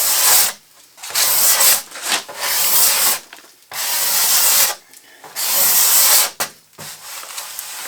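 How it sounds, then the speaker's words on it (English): A card scraper works across a wooden table top in a woodworking shop, giving loud, close, raspy scraping strokes in about five long bursts separated by brief pauses. "going to use a card scraper to get the surface prepped here. You can see I've already started."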